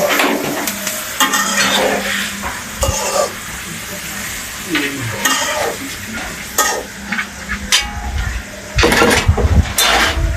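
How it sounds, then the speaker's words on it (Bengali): Food frying and sizzling in a pan in a home kitchen, with steady crackling under stirring and scraping clatter of a spoon against the pan, potatoes already fried nearby. "চলেন এখন ওইগুলো ভাজো"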